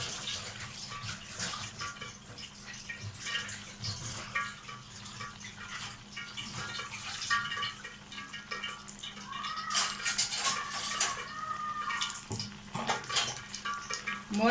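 Potato and rice tikki are lowered into hot oil in a pan and fry there with a steady, bubbling sizzle, broken by a few sharp clinks of a utensil against the pan.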